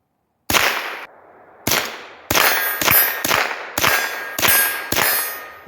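Seven sharp gunshots, each followed by a ringing metallic clang from a steel target hit, come in an uneven rhythm with short gaps, shot with a rifle on flip-up iron sights.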